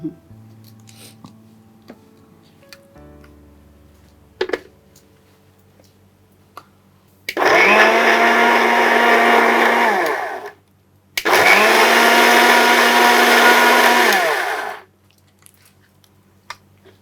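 A blender whirring brownie shake ingredients into a paste, running in two loud sustained bursts of about three seconds each, preceded by faint clicks and handling noises.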